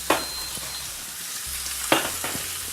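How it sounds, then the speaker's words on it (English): Beef sizzling in a pan with light olive oil, a steady close frying hiss broken by a few sharp spatters and clinks, with no talking. "And then into the pan, start cooking."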